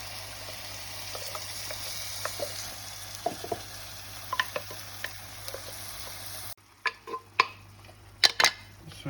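Spinach tipped into a pan of frying onions gives steady sizzling with scattered crackles and pops, and stirring clatters grow louder and closer near the end.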